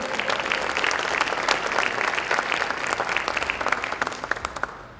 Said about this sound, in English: Give PRWT and Merck a round of applause for failing.